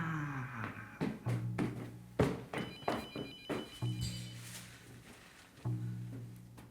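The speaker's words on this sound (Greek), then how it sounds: "Έχει τηλέφωνο." A telephone rings indoors in repeated electronic bursts, loud and close, with short gaps between rings and no talk over it.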